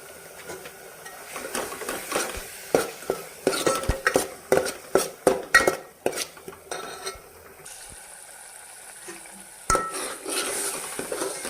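Chicken masala fries in oil in a pot with a faint sizzle. A spoon stirs it in quick, clinking scrapes against the metal, which come in a busy burst and then ease off. There is no talking.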